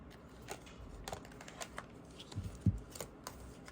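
Oracle cards are shuffled from a deck in a string of soft, quick riffles and flicks, close but faint, with small irregular taps and one slightly louder knock.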